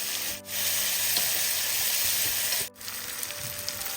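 Steady sizzling of onion and tomato sautéing in a hot pan, continuous and close, with two brief dips in the hiss and no talking.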